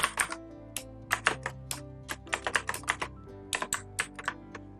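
Fingers tap out text on a computer keyboard while a PowerPoint slide is being designed: close, crisp key clicks in uneven bursts with short pauses between words.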